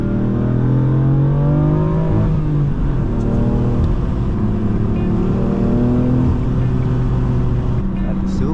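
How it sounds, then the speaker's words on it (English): A manual BMW M4 F82's turbo engine drones loud and close while driving fast up a snowy mountain road, pitch rising and dropping through gear changes with a steady whirring under the exhaust note. "I can hear the turbo"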